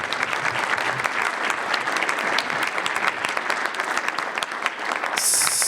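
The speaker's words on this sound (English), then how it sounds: "Give them a round of applause," An audience at a biodiversity conference panel applauds, a dense, even wash of clapping held steady throughout, fairly loud and close.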